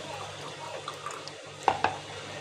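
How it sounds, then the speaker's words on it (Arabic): Water poured from a glass into semolina batter for Moroccan baghrir gives a soft, close trickle with a couple of small splashes, faint against the kitchen room tone. "غادي نزيد نص كاس ديال الماء"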